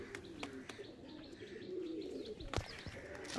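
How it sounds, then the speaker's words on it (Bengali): A Fotka line pigeon in a loft gives soft, low coos with a few faint chirps, heard quietly and close by, with occasional clicks and a sharp knock near the end. "এই ফটকা লাইনের পায়রাটা দেখো বন্ধুরা"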